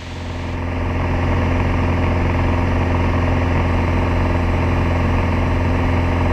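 Single-engine airplane in cruise flight at 3,500 feet: a loud, steady droning engine hum with strong constant tonal rumble, heard continuously from inside the cockpit.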